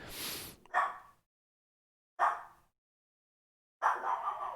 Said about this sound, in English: Unless you want to hear puppers barking.